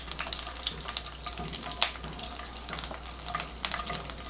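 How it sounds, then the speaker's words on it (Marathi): Garlic sautéing in a pan for a homemade pizza sauce, a continuous crackling sizzle with scattered sharp pops and a few stirring scrapes, close and moderately loud, no voices. "लसूण थोडासा लालसर परतून घ्यायचा"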